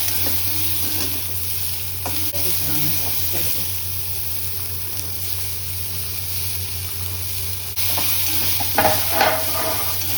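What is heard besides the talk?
onions sautéing in a frying pan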